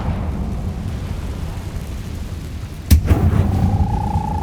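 A single sharp blast of the Confringo fire spell in Hogwarts Legacy cracks out partway through, followed by a rumbling burst and a rising whistle over steady low background ambience.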